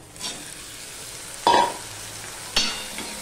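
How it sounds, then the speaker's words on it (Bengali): Chopped potato and onion fry in a pan, with a low steady sizzle broken by two short, louder stir or scrape bursts, and no voices. "আলু পেঁয়াজটা আমি ভালো করে ভেজে নেব।"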